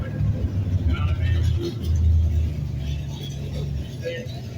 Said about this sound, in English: Trying to have this fucking noisy ass car coming through at this point.